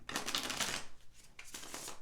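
Tarot cards being shuffled in two quick bursts of crisp riffling and flapping, with a short lull between them; close and fairly quiet, no voices.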